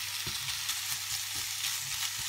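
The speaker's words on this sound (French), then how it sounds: "وملي كديروا هكا اللحم ديالكم يتشحر هكا اللون الذهبي" Pieces of meat frying in a pan for Turkish-style pizza, a steady bright sizzle with soft periodic scrapes and stirs of the utensil, close and moderate in level, no talking.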